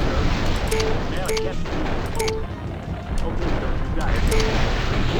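Weapons fire from battling mechs in the MechCommander video game, including an ultralight autocannon, heard as a dense rumble of booms and scattered shots under a continuous noisy battle bed, with someone talking over it.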